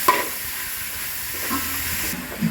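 Onions stirred as they fry in a pan for chicken curry, a soft continuous sizzle with faint scraping, steady and close, with no talk.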